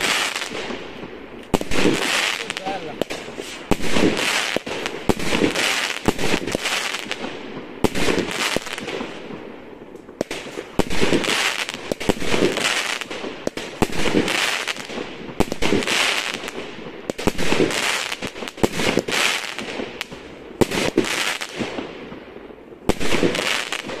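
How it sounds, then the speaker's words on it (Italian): Night Queen Classic roman candle fireworks, 300 grams, 16 shots, 30 mm, fire in a rapid series of loud, sharp bursts with crackling tails, each shot following closely on the last over roughly twenty seconds. "Night Queen Classic Fireworks, 300 grammi, 16 colpi, 30"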